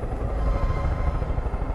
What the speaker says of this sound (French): Ah si, y'a un avion, attends.